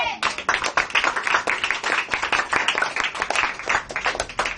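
Steady, fast clapping from a church congregation, many hands beating in a brisk, even rhythm at close range for several seconds.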